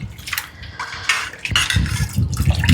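Water splashes and gurgles as it is poured into a pan of uncooked curry spiced with dried red chillies. Scattered light clinks come first, then a close, steady pour builds over the last second or so, with no voices.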